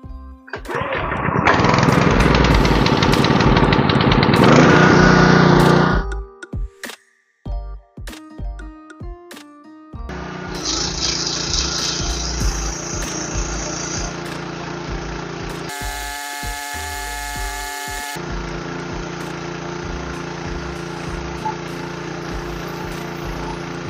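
A generator engine runs loud and steady for about five seconds, then cuts out into scattered knocks and clatter before a quieter continuous engine drone resumes with a brief high tonal band partway through.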